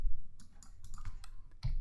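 A command being typed on a computer keyboard: a quick run of light, close clicks and key taps over a low background hum, with no speech.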